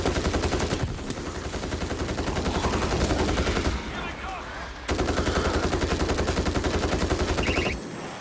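Rapid automatic gunfire rattles nonstop in the video game World War Z: Aftermath, horde mode on the Rome map, loud and dense, breaking briefly for a quieter stretch before the firing resumes.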